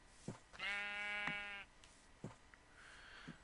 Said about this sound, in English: So look at these sheep in the trees.